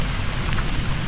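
Rain pours onto open water during a fishing outing, a dense, constant close-up hiss with no voices.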